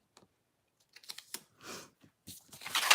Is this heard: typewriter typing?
yes